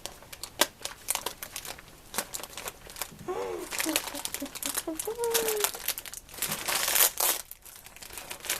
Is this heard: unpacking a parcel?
yes